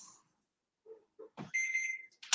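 An Instant Pot pressure cooker sounds a short, quiet electronic beep lasting about half a second, preceded by a few faint soft noises and followed by a brief click.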